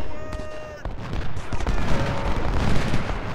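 Massed musket volleys in the Civil War strategy game Ultimate General: Civil War at the Battle of Gettysburg, with dense overlapping cracks and rolling crackle filling the scene under faint voices.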